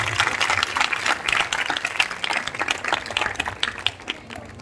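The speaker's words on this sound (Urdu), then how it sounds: "خوب تالیاں بجا کر اپنے تمام مناد صاحبان کو پیش کرتے ہیں" Audience applause for preachers at a Catholic church festival honoring Mary, a dense, steady wash of many hands clapping that carries on without a break, with no clear talking over it.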